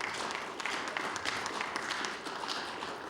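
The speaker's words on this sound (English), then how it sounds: "I would ask the House to welcome Tom Rosesco to the House and give him a warm round of applause" Members of a legislative House of Assembly give a warm round of applause to a welcomed guest, a moderate, even patter of clapping in a large chamber that continues throughout.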